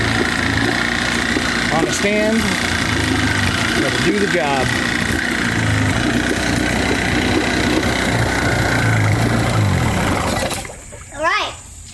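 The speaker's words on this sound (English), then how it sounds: "That is a running 30 horsepower Tohatsu." A nearly 30-year-old 30 horsepower Tohatsu outboard motor running on a stand: loud steady close idling drone that drops away near the end, with someone talking over it.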